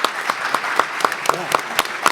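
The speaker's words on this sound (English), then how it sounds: "Audience, if you could, please give them a round of applause." A small audience claps for panel guests at a community conversation event, giving short, sparse, evenly spaced claps that stand out individually rather than merging into a roar, with no talking.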